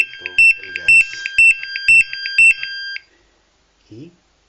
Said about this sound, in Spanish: cuáles eran los sonidos y cómo es el comportamiento del explosímetro cuando detecta una fuga de gas